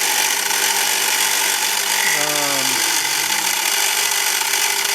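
A mini milling machine cuts a part, making a loud, steady, close machining roar with a brief pitch-sliding squeal in the middle, continuous throughout.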